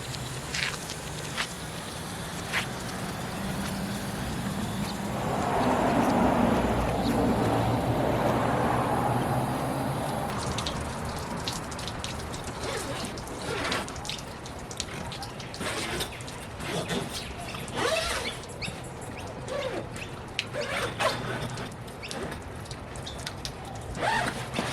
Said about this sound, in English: We're going to do our best to simulate the rain straight from the top.